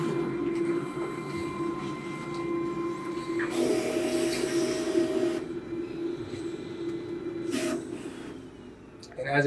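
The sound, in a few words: Mimaki CJV330 printer checking its pinch roller positions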